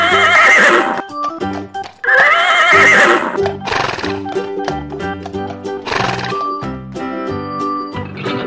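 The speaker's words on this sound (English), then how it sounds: "First, the horse." A horse whinnies loudly several times, long shrill neighs that alternate with short snorts and a few hoof clops in between.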